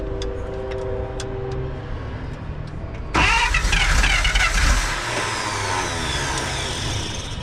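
A 1948 Pontiac straight-eight engine grinds on the starter in a few short bursts, then loud cranking swells and settles into a steady running rumble close by, with no talk.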